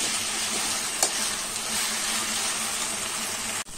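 Mashed potato frying with other ingredients in a pan, a steady, close sizzle with faint stirring scrapes throughout, ending in a brief knock.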